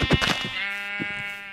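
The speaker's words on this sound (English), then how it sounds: "Oh, sheep. Oh, I'm going to kill it." A single sheep bleat from the video game Minecraft is heard close and clear: a wavering, nasal cry that holds for about a second after a brief burst of sound at the start.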